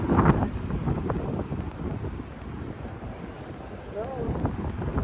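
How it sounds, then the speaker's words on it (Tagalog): Steady wind buffets the microphone with a rough rumbling roar while walking outdoors in Yokohama between Kannai and Sakuragicho, and a voice speaks briefly near the start under the gusts. "napakasarap na hangin"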